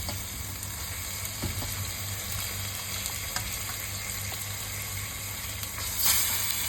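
Chicken sautéing in hot oil with ground spices and a soup spice pouch, giving a steady, dense sizzle with small scattered clicks of stirring, close and continuous.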